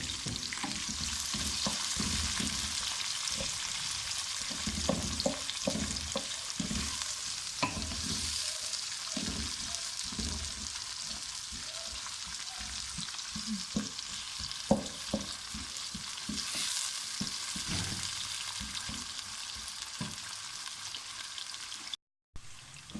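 Onions frying in a pan of ginger, garlic and cumin for a mixed vegetable curry, with steady loud sizzling throughout and repeated scraping stirs of a spoon, no voices.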